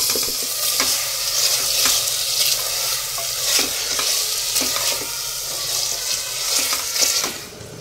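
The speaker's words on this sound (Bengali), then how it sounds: "অ্যাড করে একটু ভেজে নেবো ভালো করে" Mutton fried in a sugared, onion-free spiced masala, with a loud, continuous sizzle and frequent scraping stirs of a spatula against the pan throughout; no talking.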